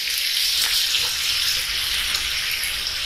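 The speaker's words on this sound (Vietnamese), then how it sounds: "Rồi bây giờ bắt đầu mình cho cái thịt ba rọi này vô trong cái nồi mắm này nha" Pieces of pork belly go into a pot of fermented fish broth for bún mắm, giving a steady, dense bubbling hiss with a watery, splashy texture, close and unbroken throughout.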